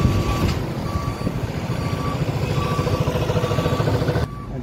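A transport truck, registration MH50, pulls away for loading while its reversing alarm beeps in a steady repeating pattern over a loud, close diesel engine rumble.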